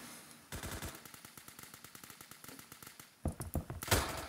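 An assault rifle in the Roblox game Phantom Forces fires a long, rapid, evenly spaced burst of shots, then after a brief pause a second, louder burst, all close and free of talk.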